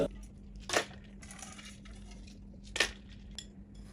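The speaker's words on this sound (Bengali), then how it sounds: "এর ভিতর দিয়ে দেবো কিছু বরফের টুকরা।" Ice cubes dropped into a blender jug while making a milk and yogurt lassi, giving two sharp, close clattering crashes about two seconds apart over a steady low hum.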